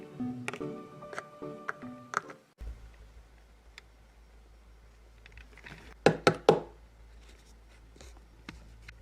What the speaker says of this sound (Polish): Nie wiem, kto może się dobijać do drzwi o takiej porze.